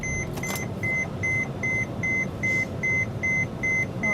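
A Thor Chateau 24BL motorhome's dashboard chimes just after the engine starts, a steady series of about a dozen evenly spaced electronic beeps over a low idling hum.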